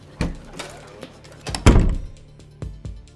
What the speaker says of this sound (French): Ne claque pas la porte, Murat !